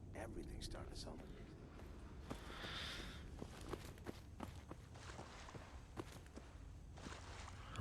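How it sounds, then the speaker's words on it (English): Footsteps in the video game Fallout 4: a run of soft, irregular steps at moderate distance over a quiet, murky ambience, some thuds sharper than others. "I've got footsteps off to the left."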